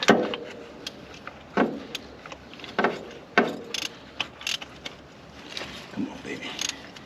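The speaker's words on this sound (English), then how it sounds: "I went and got a 1/2-inch ratchet so I have a little better length on this." A 1/2-inch ratchet works a bolt loose on a 1965 Thunderbird, with close bursts of ratcheting clicks and metallic clanks coming in irregular spurts.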